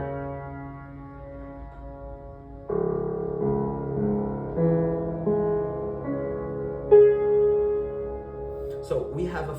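Solo piano plays the closing chords of Scriabin's Prelude Op.11 No.10, with sustained chords entering in stages and ringing on, moderately loud and close.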